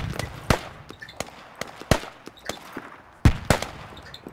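Sniper rifle gunfire in the military shooter game Squad: sharp, fairly distant cracks fire singly in an irregular rhythm, about half a dozen shots over a few seconds, with no talking.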